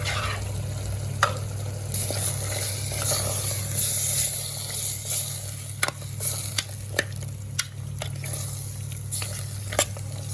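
Mutton sizzling in a pan with a paste of coriander, coconut and coriander powder, a steady loud fry close by, punctuated by occasional sharp clicks and scrapes of a stirring spoon.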